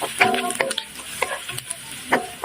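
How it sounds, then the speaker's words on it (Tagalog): Onion and garlic sautéing in butter in a hot pan, a steady close sizzle broken by a few scraping stirs of a utensil, with no talking. "mag-i-start na tayo mag-saute ng sibuyas at bawang"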